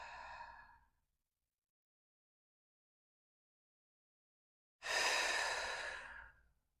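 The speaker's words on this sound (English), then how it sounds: "taking a few deep breaths" Deep breaths during a slow yoga flow in a quiet room: a soft exhale fades out, then after a long silence a full, close inhale-exhale swells loudly and tapers off.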